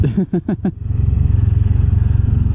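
A motorcycle idles close by with a steady, pulsing low rumble, after a short burst of voice-like chatter at the start.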